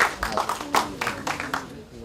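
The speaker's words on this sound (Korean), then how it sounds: "박수 한번 쳐주십시오" Audience at an emergency party caucus meeting clapping for a party leader, a few scattered claps in loose rhythm, moderately loud, mixed with a murmur of voices.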